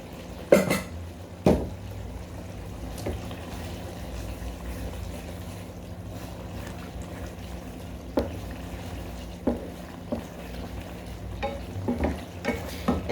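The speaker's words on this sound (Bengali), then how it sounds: "মশলাটা নেড়ে চেড়ে সুন্দর করে কষিয়ে নিব।" Ground coriander, dried chilli powder, cumin and green chillies being stirred and fried in oil for a sea-fish curry with pumpkin greens, a steady sizzle broken by scattered scraping clacks of the spoon against the pan.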